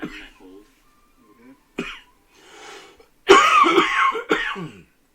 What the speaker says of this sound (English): I was coughing fit for some reason.